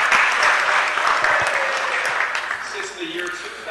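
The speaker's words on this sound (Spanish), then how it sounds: "Por favor, un aplauso." A crowd at a city council meeting breaks into loud, continuous applause, with many hands clapping together in a dense wash that eases slightly toward the end.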